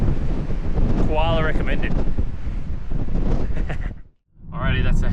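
Strong wind buffets the microphone at a clifftop lookout over the Great Australian Bight, a loud continuous roar with a brief lull near the end while a person speaks over it.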